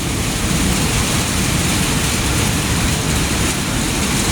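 Very heavy rain pouring down during stormy weather near an MRT station, a loud, steady, unbroken roar of water filling the whole space with no talking.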